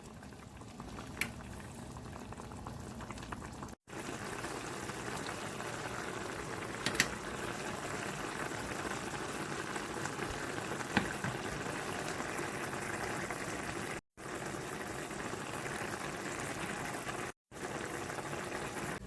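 French onion broth simmers in a pot with continuous bubbling and gurgling, close and moderately quiet, broken by a few brief cuts to silence, with no speech.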